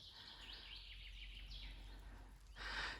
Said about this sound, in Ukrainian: І пташки співають.